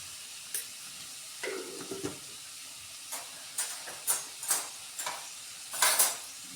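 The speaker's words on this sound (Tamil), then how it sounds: "நல்லா மிக்ஸ் பண்ணி கொடுக்கலாம்." Long beans toran sizzling in a pan after salt is added, with a steady fry hiss broken by a series of sharp spatula scrapes and stirring clatters, close and fairly quiet.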